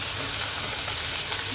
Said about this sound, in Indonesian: Kemudian kita goreng lagi, ini yang kedua. Kita goreng lagi deh.